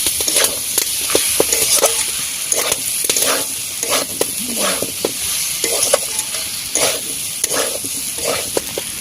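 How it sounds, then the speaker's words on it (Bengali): Spiced spinach gravy fries in a pan for palong geri dalna, a steady close sizzle with repeated scraping stirs through the whole stretch and no talking. "মশলার সঙ্গে ভাজা হয়ে যাবে গ্রেভিটা।"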